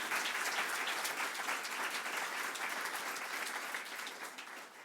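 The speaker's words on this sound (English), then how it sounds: "I'd like you to give them a round of applause" Sustained audience applause filling the room at a talk by Nigerian Finance Minister Ngozi Okonjo-Iweala, a dense steady wash of many hands clapping that fades slightly toward the end, with no voices over it.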